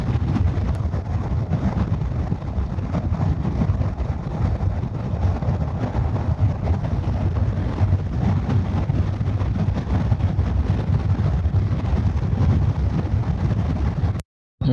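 Steady wind roar buffets the microphone while riding a Honda NC750X motorcycle on the highway from Sofia to Istanbul, a loud, continuous low rumble that holds for the whole stretch and then cuts off abruptly at the end.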